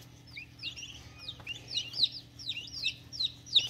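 Ayam Cemani chick chirping near and clear, a run of high, quick peeping calls that grows busier and louder toward the end over a low steady hum, with no talking.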